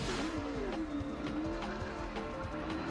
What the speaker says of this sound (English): I'm hearing cars, so I expect to see some cars at the line here.